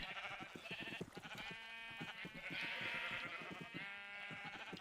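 Sheep bleat repeatedly in Minecraft, several overlapping wavering calls sounding close and steady with no talking, as if standing among a flock on a farm.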